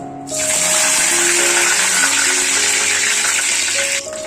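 Curry leaves sizzle in hot oil on a tawa while crab fry is being prepared, a loud steady broadband hiss starting abruptly after a brief quiet moment and holding for about four seconds before easing slightly.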